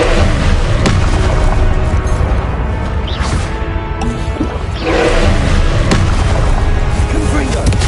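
In Hogwarts Legacy, Confringo spell blasts go off one after another in a busy fight. Loud booms and crashes repeat over steady battle noise, and voices shout throughout.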